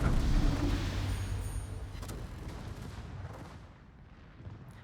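Secondary guns firing in World of Warships during a ranked battle, a loud burst of gunfire booms at the start that fades into a rumbling, decaying roar, with a couple of fainter sharp reports later.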